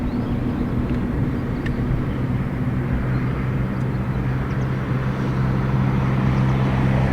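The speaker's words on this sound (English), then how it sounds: "So this is a little Cessna Citation 525." A small Cessna Citation 525 business jet at Dublin Airport's north runway gives a steady, continuous engine roar with a low droning hum, held at an even loudness throughout with no talk.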